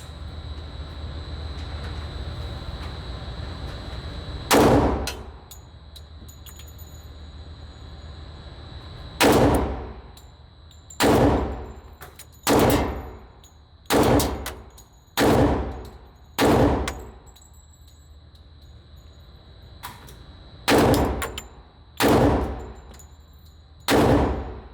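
A Springfield Armory XDM Elite 10mm pistol fires ball ammunition outdoors, with about eleven loud, sharp single shots spaced irregularly, several in quick succession, over a steady background hum.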